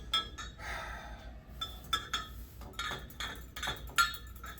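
A wire whisk clinks and rattles against a bowl while mixing soap, in quick irregular bursts of metallic tapping, close and moderately loud.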